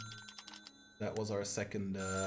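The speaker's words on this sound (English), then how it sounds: "the phone is ringing yet again" A telephone rings in the Little Big Workshop video game, a tonal electronic ring with a steady harmonic pattern that comes in clearly after a brief quieter stretch of soft clicks.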